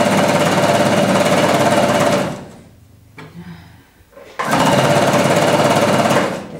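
A quiet home sewing machine stitches a child's pointed hat in two loud, steady runs of rapid needle rattle, with the table rumbling beneath, separated by a brief pause with faint handling noises.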